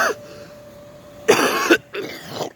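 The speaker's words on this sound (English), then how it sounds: "I'm just clearing my throat." A man clears his throat in two harsh, rasping bursts separated by a short pause, close and fairly loud in a quiet room, with no words spoken.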